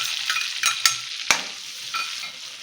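Asafoetida, green chillies and finely chopped ginger sauté in a hot pan with cumin, giving a bright continuous sizzle broken by a few sharp clicks and scrapes of a spoon, close and without speech.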